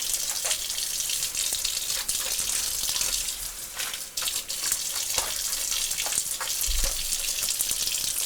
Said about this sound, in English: Open the drain up, allow it to drain out, rinse it out.